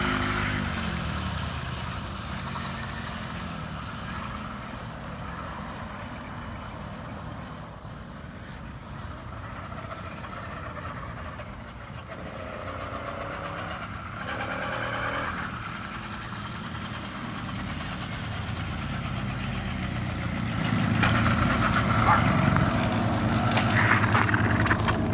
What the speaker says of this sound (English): I've been using the motor to slow it down